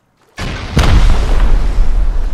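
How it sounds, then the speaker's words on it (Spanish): A blast breaks open a sheet metal door in Rust: a sharp burst at onset, then a sustained loud, rumbling roar of debris and noise that continues to the end. "Voy a romper la puerta de chapa también."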